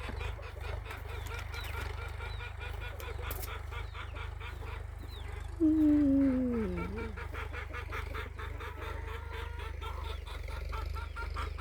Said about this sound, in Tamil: அந்த கோழி முட்டை வைக்க போகுது அதனால தான் பாருங்கள் கத்திகிட்டு இருக்குது